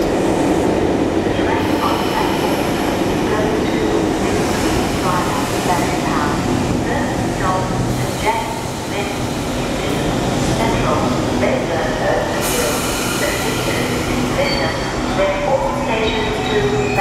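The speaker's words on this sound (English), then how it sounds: "my train is about to come and I'm fixing to board the train" A metro train rolls into a station in Australia, its steady rumble and clattering wheels filling the whole stretch, with brief squeals and a crowd murmuring faintly under the loud, continuous noise.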